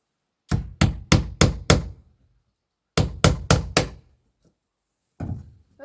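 Hammer blows driving a nail into wood while making a sign, two quick bursts of four to five sharp, loud knocks each, then a final single strike, close and with no talk.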